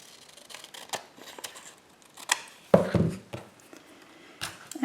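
Scissors trim paper for a journal page in a few short, crisp, close snips with quiet rustling between them.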